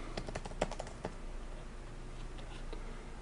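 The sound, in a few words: typing a keyboard shortcut on a computer keyboard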